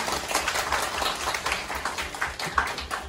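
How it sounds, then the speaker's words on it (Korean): Audience clapping at a school ceremony welcoming a vice principal, with a steady, fairly soft round of applause from a roomful of people and no voices over it. "박수 한번 드리겠습니다."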